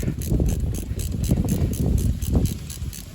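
Ratchet turning out a brake caliper screw on a classic Mercedes W126, a steady run of close, rapid mechanical clicks lasting throughout with no pause.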